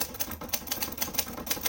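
Rapid keystrokes clatter on a Hermes 3000 manual typewriter, a quick uneven run of sharp mechanical clicks and thwacks heard up close, with no one speaking.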